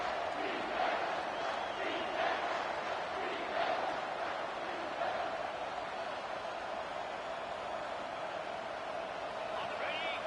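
A stadium crowd roars steadily through a Florida State vs Ohio State football game, loud and continuous, with some cheering swells and talk mixed in.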